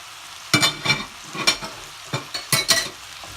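Chili powder, salt and coriander powder stirred in a hot frying pan: a run of sharp scraping strokes with a spatula, close and fairly loud, over a faint sizzle.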